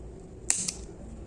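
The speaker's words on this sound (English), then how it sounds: "Then you're going to get your pair of scissors and cut." A single quick snip of scissors cutting crochet yarn, a short crisp double click close by against quiet background hiss.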